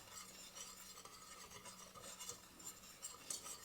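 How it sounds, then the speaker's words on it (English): A spoon stirs a fudge mixture with whipping cream in a pot over medium heat. The scraping and swishing are faint, soft and continuous, with occasional light clinks of metal, heard up close and quiet throughout. "And just keep stirring."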